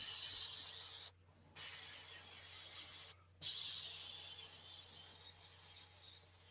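An airbrush sprays paint in a steady close hiss, broken twice by short pauses where the trigger is released, with no talking.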